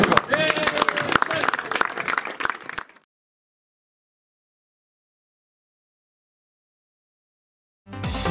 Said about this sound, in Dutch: Applaus voor de prezes.